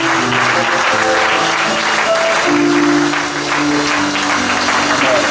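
A church congregation at an Easter Sunday service applauds loudly and continuously, with dense clapping over sustained sung or shouted voices and held musical tones underneath.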